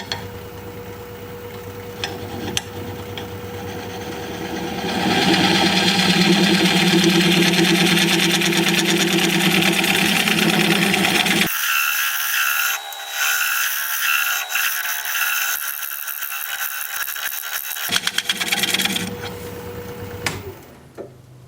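A wood lathe spins a turned wood piece while a scraper works the surface. A steady motor hum runs throughout, with louder rough scraping in the middle, a sudden drop, then irregular ticks and scrapes.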